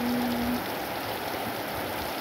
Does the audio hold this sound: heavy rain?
yes